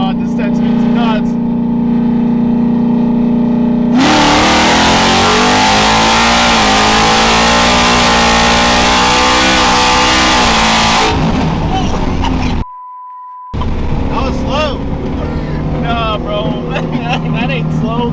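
Whipple-supercharged Gen 3 Coyote car with a 10-speed transmission accelerating from 60 to 130, a loud supercharger whine and engine roar building through rapid shifts, with cabin noise before and after a short gap.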